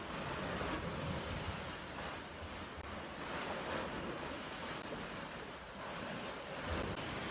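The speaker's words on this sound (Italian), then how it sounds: "forse il mare è abbastanza arrabbiato?" Rough sea waves crash and churn in a steady, dense roar, with wind buffeting the microphone throughout and no voices.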